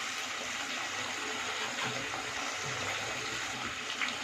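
Tamarind water is poured into a pan while aloe vera curry is cooked. It makes a soft, continuous splashing gush that is fairly quiet and steady for a few seconds, with no talk.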